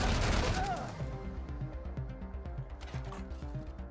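A single loud gunshot in Wasteland 3 opens the moment, then decays into a ringing tail with rhythmic game music and effects underneath.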